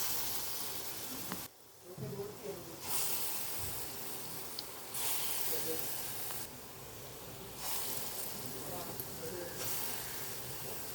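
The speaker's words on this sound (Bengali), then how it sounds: "এবার ডালের বড়াগুলো ভেজে নেব।" Lentil fritters (chana dal bora) fry in hot oil with a steady loud sizzling hiss, briefly dropping away a few times as batter is added, with a voice speaking at moments.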